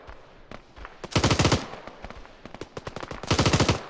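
Rifle fire in Arma 3 during a Falklands War scenario: bursts of rapid automatic shots, two long loud volleys plus scattered single cracks, close and sharp with no talking.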